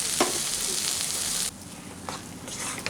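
Banana flower paste (mocha bata) with a spoon of raw mustard oil stirred in a pan, giving a steady close sizzle with scraping strokes that drop sharply quieter halfway, then brief stirring scrapes continue faintly.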